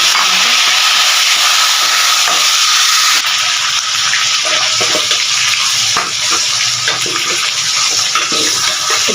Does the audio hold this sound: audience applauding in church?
no